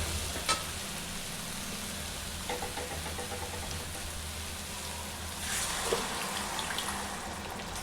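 Water poured into a pan of potatoes and drumstick pieces already cooking, a steady rushing sizzle that runs the whole time, fairly close, with no voices.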